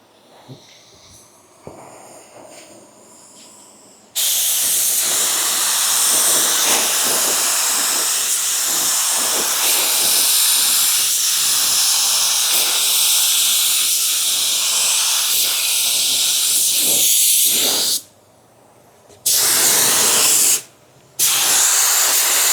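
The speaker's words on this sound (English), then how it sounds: "I ended up spraying a little bit closer and moving a little bit quicker." A spray gun lays down the first coat of paint on a car, giving a loud, steady hiss that runs unbroken for long stretches, then stops and restarts in two short bursts near the end, with no talk.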